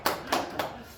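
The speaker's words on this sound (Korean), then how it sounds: "박수 한번 칠게요" Three sharp claps spaced evenly, close and fairly loud, tailing off into a quiet room.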